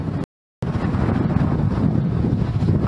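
Strong hurricane wind during Hurricane Irma buffets the microphone in a loud, roaring rush, cut by a brief dropout near the start, then blowing steadily and close.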